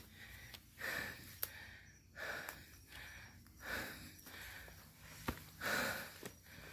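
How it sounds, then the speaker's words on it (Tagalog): Heavy, rhythmic panting from a hiker climbing a cold trail up Mt. Talamitam, deep breaths in and out repeating about every second, close and fairly quiet. "Hingal."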